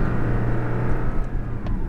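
A Porsche 718 Cayman engine drones steadily at close range, a loud, constant low rumble that holds for two seconds with only a slight dip partway through and no talk.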